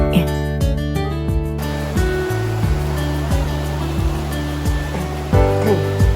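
The Ciwidey river rushes steadily beside a riverside restaurant in Bandung, a close, continuous wash of water. A repeating tonal pulsing sound runs over it throughout.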